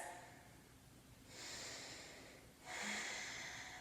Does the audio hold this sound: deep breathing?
yes